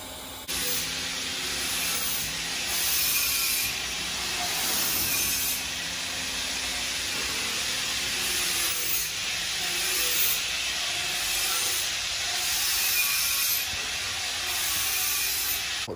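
A gas torch flame burns with a steady, close hiss and roar, holding nearly constant after it ignites, with faint surges and no talking over it.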